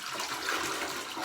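Waste water splashes and gushes continuously as a Thetford porta potty is dumped, a close, steady watery rush with no talk.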